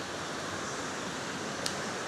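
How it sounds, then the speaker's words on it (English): Waterfall at Paronella Park, an Australian garden with a hydroelectric setup, roaring as a steady broadband wash of falling water, close and continuous with no voices. "Okay, there's the waterfall."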